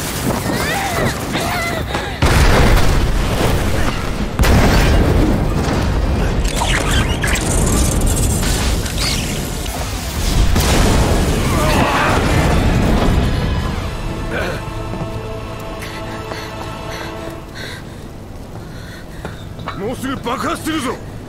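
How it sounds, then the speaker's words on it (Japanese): Explosions from a Final Fantasy game rumble through a long scene, with heavy booming blasts and thuds layered under dialogue and music. "爆発するぞ。"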